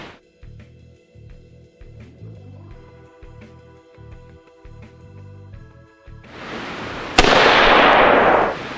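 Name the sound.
AR-15 rifle shot with Seekins Precision compensator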